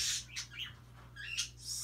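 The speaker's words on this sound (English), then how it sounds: "you guys are hearing my birds in the background" Several pet budgies and parakeets chirp indoors in short, high, quick bursts, faint and somewhat distant, with no one talking.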